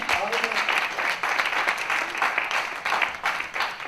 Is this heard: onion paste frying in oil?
no